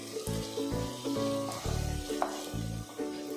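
Potatoes fry and sizzle in a pan for Kerala-style veg kurma, a steady close crackling hiss broken by clinks and scrapes of stirring, no voices.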